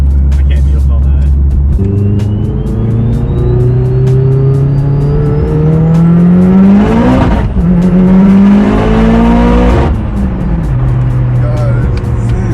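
A loud tuned car running on pump gas revs hard and close, its engine note climbing and falling in long sustained pulls, while people talk over it.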